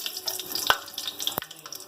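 Whole spices sizzle in hot oil: dried red chilli, bay leaf, cardamom, cinnamon and cloves. A steady crackle sits close and clear, with a couple of sharp clinks from stirring.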